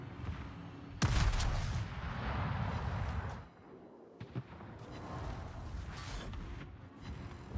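Heavy naval guns from a large battleship firing in World of Warships, a loud booming salvo with rumbling tails, then a quieter stretch and further rumbling blasts.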